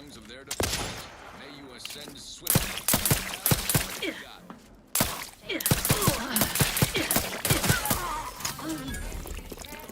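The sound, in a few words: gunfire in the video game The Outer Worlds 2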